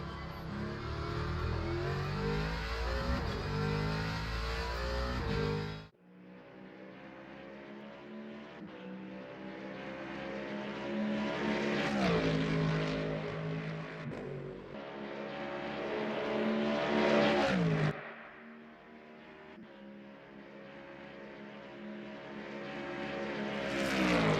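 GT3 race car engine in the Le Mans Ultimate racing game at the Le Mans circuit near Mulsanne Corner, a loud sustained engine roar that cuts off abruptly, then rises again through repeated revving gear changes and braking.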